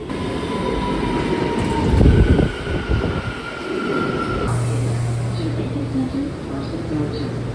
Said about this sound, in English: Here comes my fourth and final Z train